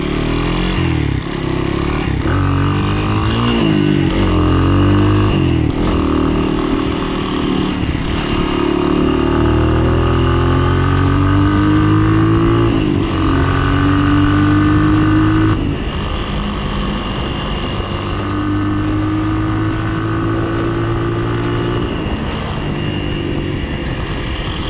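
A Honda XR200 dirt bike engine runs loud and close throughout, revving up and easing off in repeated rises as the rider shifts through the gears, with no talk.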